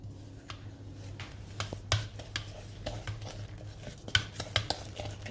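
Blueberry cupcake batter being stirred together in a bowl, a steady scraping of the spoon with irregular light clinks and taps against the side, close and fairly quiet.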